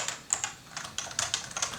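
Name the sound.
typing on a Realforce 86U keyboard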